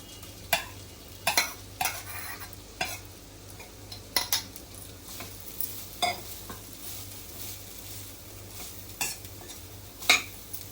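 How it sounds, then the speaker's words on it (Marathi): Grated coconut sautéed in ghee with cashews and almonds for coconut karanji gives a soft, continuous sizzle, broken by repeated scraping and clinking of a spoon against the pan at irregular intervals. "फक्त एक मिनिट आपल्या परतायचं आहे नारळ तुपावरती"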